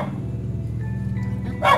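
A household dog barks once, a short sharp yelp near the end over a low steady indoor drone.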